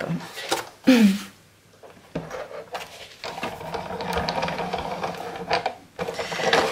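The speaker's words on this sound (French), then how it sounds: "on va découper ça à la Big Shot" A Big Shot die-cutting machine cranking paper snowflake dies through its rollers, giving a sharp clunk, then a sustained mechanical grinding and rolling as the plates pass through, close and fairly loud.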